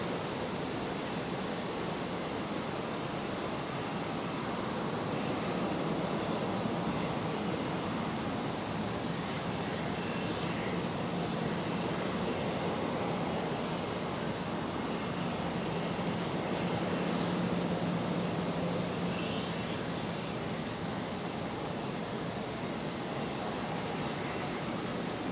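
A jet airliner takes off from runway 01 left at Brisbane Airport, its roar heard from a distance as a steady, broad rumble that swells slightly and holds for the whole stretch, with no voices.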